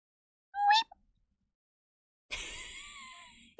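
Person imitating a cat meowing, two separate vocal meows, a short one near the start and a longer drawn-out one after a pause, close and alone.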